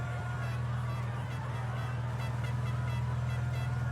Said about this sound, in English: It's annoying people with the air horns.